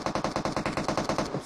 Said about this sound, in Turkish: Silah sesleri duymaya başladı.